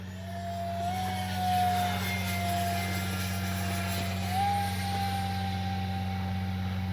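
A 50mm electric ducted-fan T-33 model jet whines steadily at a distance, its high-pitched tone rising and falling with throttle changes over a constant hum.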